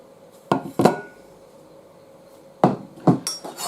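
A knife chops pineapple into thin slices on a board, giving a few sharp, close knocks in two separate pairs with quiet pauses between them.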